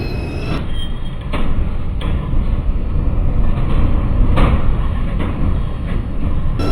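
A New York subway 2 train bound for Flatbush Avenue rumbles loudly through the Grand Army Plaza station, with heavy low rolling noise and periodic clanks from the wheels as the cars pass.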